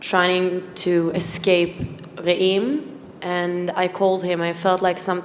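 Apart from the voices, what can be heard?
None of the usual background noises is heard.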